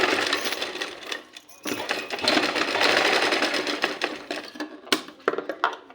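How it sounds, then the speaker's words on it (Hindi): Sewing machine running in short bursts while stitching a small flower-shaped fabric piece for a sleeve design, close and fairly loud, with brief pauses and a few sharp clicks between runs. "यहाँ पे ऐसे सिलाई मार देना है"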